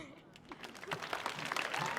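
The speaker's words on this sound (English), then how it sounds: "keep the applause going" Audience at a youth poetry festival stage applauding a poet, clapping swelling from quiet to a fuller, sustained patter of many hands with some cheering mixed in.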